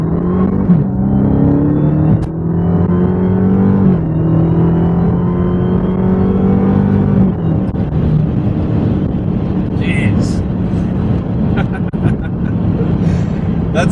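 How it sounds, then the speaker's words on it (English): A Dodge Charger Hellcat accelerates hard, its loud engine roar climbing through the gears with a high supercharger whine riding on top, steady and close from inside the car. "That supercharger whine is so addicting."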